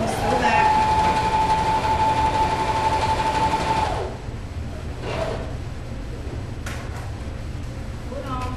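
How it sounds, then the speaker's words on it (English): Sewing machine stitching quilt pieces together, running as a steady mechanical hum for about four seconds before stopping, followed by quieter handling noise. "So then you want to sew it together."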